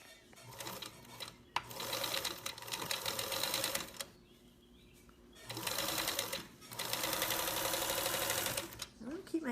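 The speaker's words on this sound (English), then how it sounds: "I'm going to do a 1/4 inch seam. I'm going to start by back tacking." A sewing machine stitching a quarter-inch seam with back tacking, running in three close, steady whirring bursts separated by brief stops.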